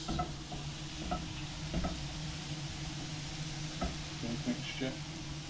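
Eggs for a leftovers omelette sizzle steadily in a pan, with soft scraping and stirring knocks breaking through the hiss at close range.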